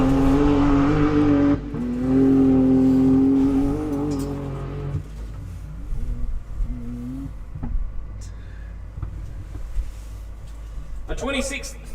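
Enduro race car number 57 pulls away at the start of a lap in the Riverland Enduro, its engine roaring loud and near with a sustained rising tone before fading, while a commentator talks over it.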